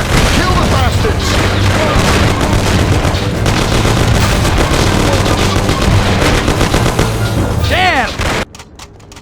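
Heavy gunfire in a Mafia video game shootout, dense and continuous bursts with booming impacts filling the scene, someone shouting over it, before the firing cuts off near the end.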